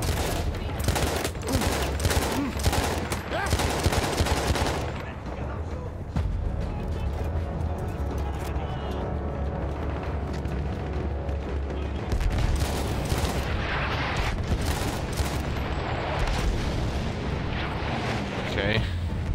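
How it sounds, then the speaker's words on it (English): Battlefield 1 bombing run: heavy explosions and rolling artillery-like blasts mixed with gunfire, loud and continuous, with a dense burst of impacts early on and another later, all under a constant battlefield roar. "Okay, that was a bombing run."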